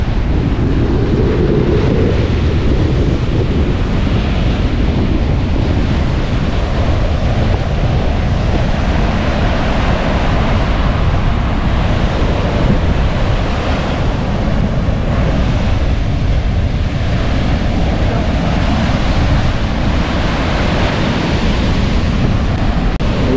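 Rough sea waves crash continuously onto a beach at Cabangan, Zambales, after a typhoon, a loud, unbroken roar of surf with heavy wind buffeting the microphone.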